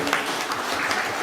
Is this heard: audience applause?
yes